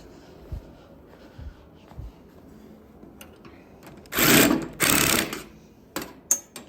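An impact wrench with a 7/16 socket snugs the seat bolts on a racing kart during assembly: two loud, close, rattling bursts of about half a second each, after soft taps and handling noises, with no talk.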